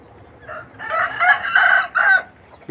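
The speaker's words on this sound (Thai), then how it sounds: "นี่ก็ขันแล้วครับเยี่ยตัวนี้ ขันแล้วสู่ใกล้แล้วครับนี่" A rooster crows close by, one loud drawn-out cock-a-doodle-doo with a rising start and a strong sustained middle, outdoors on a farm after heavy rain, with a brief further call at the very end.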